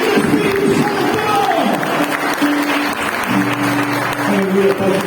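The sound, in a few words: church congregation applauding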